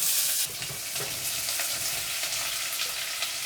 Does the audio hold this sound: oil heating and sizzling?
yes